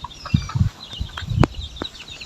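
Farm chickens clucking in short, scattered bursts close by, with quieter background noise between the calls.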